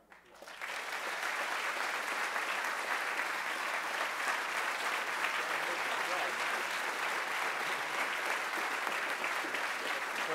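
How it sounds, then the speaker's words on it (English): A large school assembly audience breaks into sustained, dense applause that fills the room evenly for about ten seconds, steady and unbroken after a quick start. "I'd like for you to give them a round of applause"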